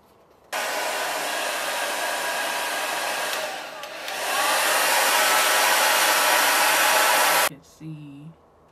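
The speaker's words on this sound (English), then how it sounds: "And I'm gonna blow dry that down." A handheld hair dryer blows hard and steadily on a wig's gelled lace, running loud and close for about seven seconds, briefly dipping and then surging stronger before it shuts off.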